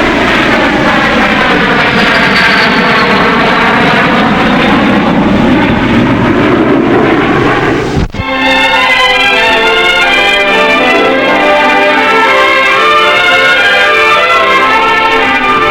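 North American Aviation airplane engines drone loudly and continuously, the tone sliding in pitch as a craft passes, then an abrupt cut to a different, steadier engine roar with layered harmonic tones; no voices.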